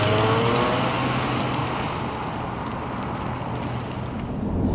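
Honda 3.5-liter VTEC V6 in a 2009 Acura TL, a steady, loud engine drone with a low rumble and a rising pitch early on, sustained throughout without talk.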